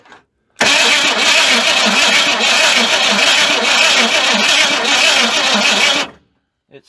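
A 1981 Ford F100 with a 351 Windsor V8, left locked up for years, cranks loudly and steadily for about five and a half seconds with a rhythmic churning pulse, then cuts off without settling into an idle.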